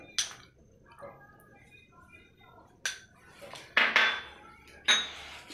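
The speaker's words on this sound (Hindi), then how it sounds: "ये प्लेट रख के अभी जो हम लोग का स्टार्च है उसको थोड़ा सा मिक्स करेंगे, इसमें थोड़ा सा हल्दी डाल देंगे" Starch is mixed with a little turmeric on a plate for yellow laping, giving sparse knocks and scraping clinks of a spoon on the dish, spaced out over quiet stretches with a few sharper taps toward the end.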